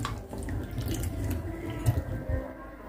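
A kitchen tap runs into a sink while food is rinsed under it, giving a steady close wash of flowing water with a few splashes and drips.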